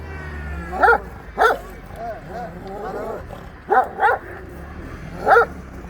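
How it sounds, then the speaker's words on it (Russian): A dog barks five times in short, loud bursts, some in quick pairs, while people talk in the background. "Собака там позади."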